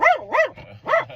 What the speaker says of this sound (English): Security passing by in his golf cart, and Ted is like barking at him